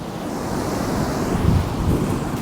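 Surf with sea foam rolls onto a beach at the Fort Miles coastal defense site, a loud, continuous roar of breaking waves mixed with gusting wind buffeting the microphone.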